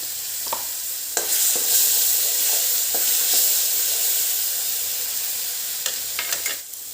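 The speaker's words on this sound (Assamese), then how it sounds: "একেখিনি তেলতে মই আদা নহৰু পেষ্ট অলপমান দি দিলোঁ" Ginger garlic paste fries in hot oil with a loud, continuous sizzle, broken by a few sharp crackles and the scrape of stirring.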